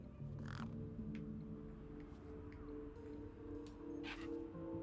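Birds in the Beyond a Steel Sky video game let out two harsh caws, one early and one near the end, over steady background game music.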